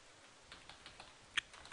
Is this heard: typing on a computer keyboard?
yes